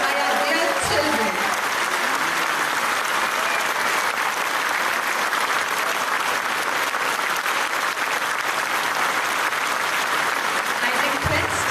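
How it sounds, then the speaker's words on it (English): Sustained applause from an audience after a children's performance at a school event, a dense steady wash of clapping filling nearly the whole stretch with a brief voice at the very start and end. "May I request our dear audience to continue this huge round of applause for a few more minutes"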